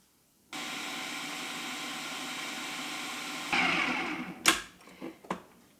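A kitchen blender runs steadily on wild garlic pesto as rapeseed oil is added, a loud continuous whirring drone that roughens and shifts in pitch partway through, then cuts into a few short bursts before stopping.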